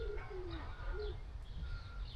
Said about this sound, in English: you can listen to the birds